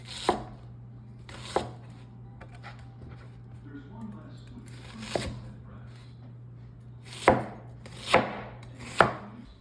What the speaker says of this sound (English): I'm just going to kind of chop it up in some big chunks.